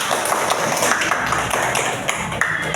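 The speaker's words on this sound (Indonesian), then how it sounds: "Oke, tepuk tangan." Students in a classroom clap together in a brisk burst of applause, sharp taps filling the room at close range with no talk over them.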